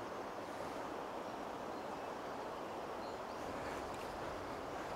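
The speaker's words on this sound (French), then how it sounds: "Le vent est en train de bien monter," Steady wind rushes and buffets beside a river in France, a broad, constant roar with faint water sounds beneath it and no voices.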